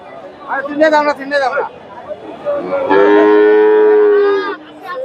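A bull calf at a cattle market lets out one long, loud moo after a stretch of nearby talking, with crowd chatter around it.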